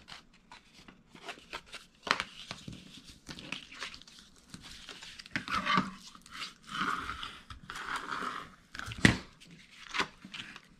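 A scored paper file folder is folded and burnished by hand, giving a run of close, irregular crinkles, rustles and sharp rubbing scrapes with brief pauses between them.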